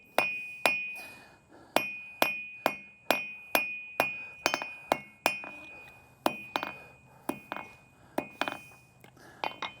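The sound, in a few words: cross peen hammer shaping a forged metal leaf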